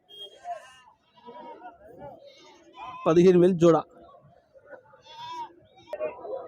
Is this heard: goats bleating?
yes